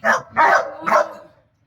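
A dog barks three times during training amid other dogs, sharp, loud and close, the barks evenly spaced and then falling silent.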